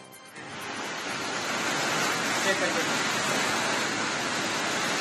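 Jog Falls in Karnataka gushes in full flood during heavy rain, a broad, steady roar of falling water that swells in after a quieter first half-second and then holds constant.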